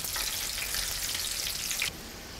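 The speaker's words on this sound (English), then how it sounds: "I'm just finishing up the last of my frying here." Onion rings fry in hot oil for restaurant-style rings, giving a steady, dense crackling sizzle close by that drops abruptly in loudness near the end, with no voices.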